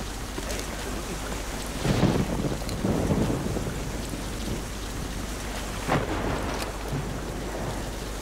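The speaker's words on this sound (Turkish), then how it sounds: "Yağmur efektini vermiş olduk böylece." Rain and thunder in a CryEngine video game, a steady hiss of falling rain with low rolling thunder swelling several times, moderately loud and without speech.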